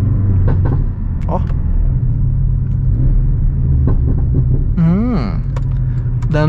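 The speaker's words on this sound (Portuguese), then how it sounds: "Dando umas pipocadas. Lembrando que esse escapamento, ele não é original, tá?" Porsche 718 Cayman GTS (2019) with a non-original aftermarket exhaust, rumbling from inside the cabin with several sharp pops and crackles, plus a rising engine rev near the end, while someone talks over it.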